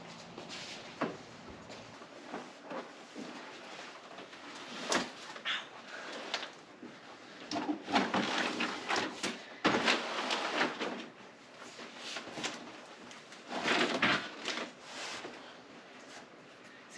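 A household door is worked open while people move a heavy cabinet, with scattered knocks, scrapes and rubbing bumps at close range in a quiet room.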